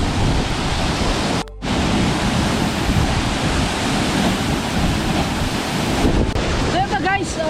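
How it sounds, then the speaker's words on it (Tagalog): Ana-an Falls pours down in a loud, steady rush of white-noise water that fills the whole stretch without letup. A faint voice rises briefly near the end. "So napakalakas ng bagsak ng tubig."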